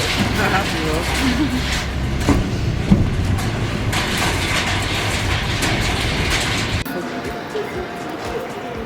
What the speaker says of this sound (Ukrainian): все, сідаємо зараз на цей поїзд